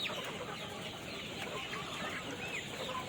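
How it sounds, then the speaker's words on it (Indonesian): A KUB village-breed rooster clucks faintly in a noisy farm setting, a few soft calls rising over a constant background hiss and chatter of other fowl. "Oh, ini jagonya kita nih teman-teman."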